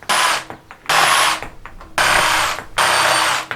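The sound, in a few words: jigsaw cutting leftover 2x4 wood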